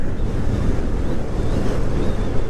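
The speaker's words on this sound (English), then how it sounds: "I can feel the wind going through it" Wind rushes through a Leopard motorcycle helmet while riding, a loud, steady, low buffeting roar that fills the whole stretch with no other sounds.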